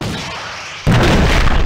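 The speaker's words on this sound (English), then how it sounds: "More accurately, the explosion." A rocket from the Seeker launcher in the Rival Rebels mod explodes. After a short stretch of low rumble, a sudden loud, full-range blast hits and holds as a dense roar to the end.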